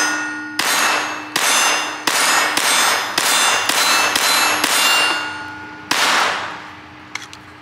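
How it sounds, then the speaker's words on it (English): A handgun fired repeatedly at a shooting range: about eight loud, sharp reports in an even rhythm, each ringing briefly before the next, followed by a few faint metallic clinks at the end. "I love shooting this gun."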